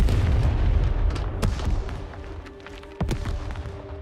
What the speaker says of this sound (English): stop the artillery fire immediately